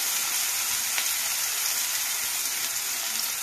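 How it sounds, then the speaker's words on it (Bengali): Soybean chunks frying in hot oil with a pinch of salt give a loud, steady, close sizzle that hisses without a break, with no voices. "অল্প সামান্য একটু নুন দিয়ে সোয়াবিনটা ফ্রাই করে নিচ্ছে।"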